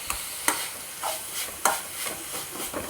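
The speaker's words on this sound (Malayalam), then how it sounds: "തക്കാളിയും കൂടി ആഡ് ചെയ്ത് ഒന്ന് മിക്സ് ചെയ്തതിന് ശേഷം നമുക്ക് അതിലേക്ക് നാളികേരം ഇട്ട് കൊടുക്കാം എന്നിട്ട് നന്നായിട്ടൊന്ന് നമുക്ക് വയറ്റിയെടുക്കാം" Chopped tomato and grated coconut being sautéed in a pan for a kadala chickpea curry: a soft continuous sizzle, broken by several sharper scrapes and clacks of a spoon stirring the mixture up close, with no talking.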